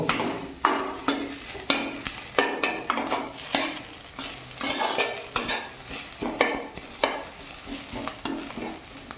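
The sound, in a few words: stirring onions and dried red chillies frying in pan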